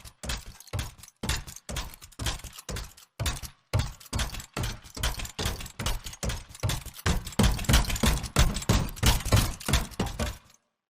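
Layered mech footsteps from the video game Anthem thud in a steady rhythmic march, each heavy step punchy and close with a metallic mechanical transient, growing slightly louder toward the end before stopping abruptly.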